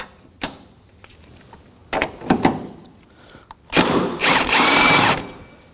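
A hand or power ratchet with a 14mm socket loosens engine mount bolts on an Acura MDX (2014–2020), scattered clicks and short whirring bursts, then a longer loud buzzing run near the end, close up with no talking.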